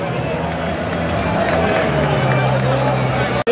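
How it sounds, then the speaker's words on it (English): Football crowd at a Norwich versus Hull match, a broad steady roar of many voices from a distance with scattered clapping, sustained throughout and cut off abruptly at the end. "all I hear is a crowd erupts"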